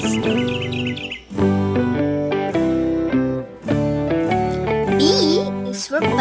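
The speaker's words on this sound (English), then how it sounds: "they make chirping or singing sounds" Bright bird chirps and warbling calls ring out over a cheerful, steady children's music backing, recurring briefly at the start and again near the end.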